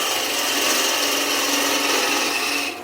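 A skew chisel scrapes wood turning on a lathe, a loud, steady, close hissing rasp that runs evenly and cuts off at the very end.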